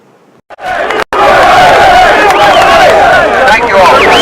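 A large crowd of rescue workers at Ground Zero shouts and cheers loudly in a sustained roar after a short lull, with individual voices yelling over the din.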